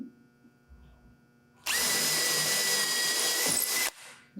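A power drill drives a 3-inch drywall screw into a 2x4 for framing joinery, a loud, steady, close whir lasting about two seconds before stopping abruptly, with quiet room sound on either side.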